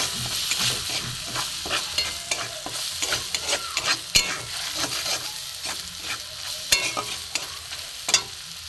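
Spices with grated ginger, chili powder and a little sugar being fried and stirred in a pan: a continuous sizzle broken by repeated scraping strokes of a spatula and occasional sharp clicks, close and clear.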